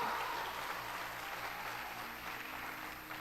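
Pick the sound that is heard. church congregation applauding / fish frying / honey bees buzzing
church congregation applauding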